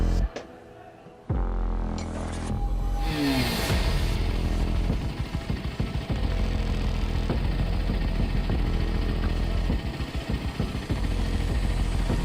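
After a brief quiet moment, a motorbike engine idles loudly and steadily near a nightclub, throbbing continuously to the end.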